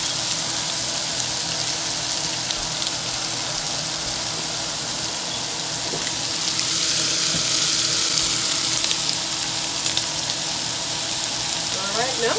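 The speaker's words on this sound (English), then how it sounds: "maybe 3 tablespoons of oil in here, coconut oil, and now I'm putting my shrimp" Shrimp from a 61 to 70 count package sizzle in about three tablespoons of coconut oil, a steady broadband frying hiss with a low hum beneath, growing slightly louder partway through, with no talk.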